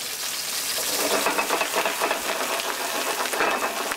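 San Marzano tomatoes sauté in a hot pan, giving a steady, close crackling sizzle with faint stirring scrapes throughout.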